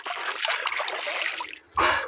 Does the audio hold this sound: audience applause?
no